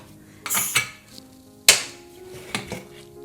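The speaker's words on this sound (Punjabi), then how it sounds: "ਹੁਣ ਢੱਕਣ ਖੋਲ ਕੇ ਚੌਲ ਚੈੱਕ ਕਰਦੇ ਆਂ" Pressure cooker lid opened to check rice, giving a few sharp, close metallic clanks and scrapes in quick succession against a quiet kitchen background.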